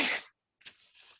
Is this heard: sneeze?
yes